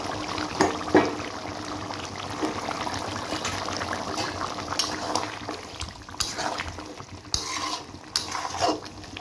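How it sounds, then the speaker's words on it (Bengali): A Bengali curry gravy with pointed gourd and potatoes bubbles and simmers in a pot, a continuous busy burbling with occasional louder pops and spatters. "এই দেখুন ঝোলটা ফুটে গেছে, আর আমার এই পটলগুলো সেদ্ধ হয়ে গেছে"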